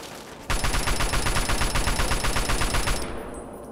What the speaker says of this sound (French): C'était un sniper chinois.